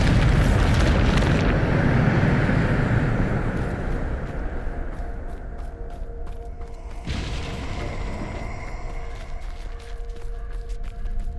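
A Bombarda spell blast in Hogwarts Legacy opens with a loud, rumbling boom that trails into a long low roar, and a second, softer burst follows partway through.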